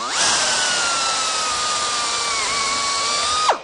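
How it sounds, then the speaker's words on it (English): A power drill bores through aluminum sheet metal for assembly: a close, loud whining spin with a steady high pitch that drops slightly near the end, then stops abruptly, without any talk. "So now I'm going to drill another hole,"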